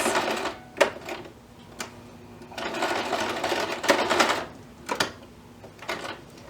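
Sewing machine stitching fabric eyes onto a gingerbread man treat bag, running in rapid mechanical bursts of stitches separated by brief pauses, close and clear.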